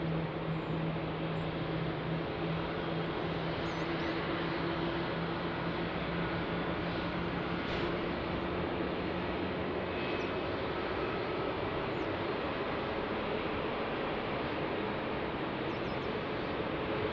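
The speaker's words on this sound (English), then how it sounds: "So they are starting to taxi to runway 20." A fixed-wing airliner taxis toward runway 20 at Lisbon Airport, its engines holding a steady, continuous broadband roar at moderate distance with faint tonal whine, unbroken and without voices.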